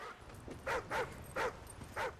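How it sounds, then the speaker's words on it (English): Dog barking in the video game Call of Duty: Ghosts: four short, evenly spaced barks with a soft lead-in yelp, moderately close over a low game ambience. "The heck is Riley barking at?"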